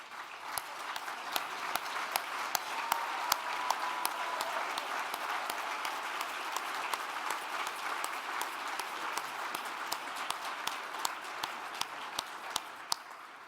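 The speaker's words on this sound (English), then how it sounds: "we can give you a big round of applause" A dinner audience at an award gala gives sustained, steady applause, many hands clapping densely at an even level from a moderate distance.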